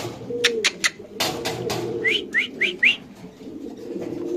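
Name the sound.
pigeons cooing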